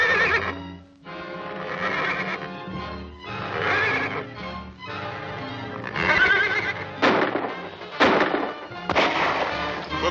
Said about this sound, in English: Smelling salts will make my horse whinny.